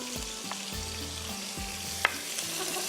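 Chicken frying with garlic in a pan, a steady close sizzle with rhythmic scraping strokes of a spoon stirring, and one sharp metallic clink.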